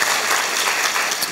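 A brief, loud burst of dense clapping from a university student audience at a lecture in Gwangju, continuous throughout with no speech over it.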